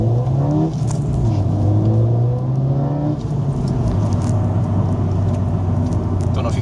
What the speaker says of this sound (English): It's really only whenever the turbo is really spinning that you get the sound